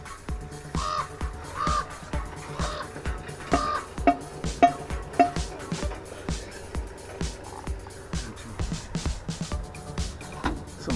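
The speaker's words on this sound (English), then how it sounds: "Some crow over there giving me heck." A crow caws repeatedly from a distance at a marina, harsh calls spaced irregularly over steady outdoor background noise.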